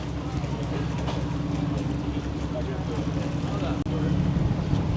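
Gusty wind roars across a tour boat on the water near the port of Nassau, Bahamas, a dense continuous rumble with one sharp dropout near the end, close and heavy, with a voice faintly underneath.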